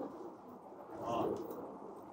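Pigeons on a rooftop loft give a soft, low coo in one brief swell, faint and close against a quiet outdoor background.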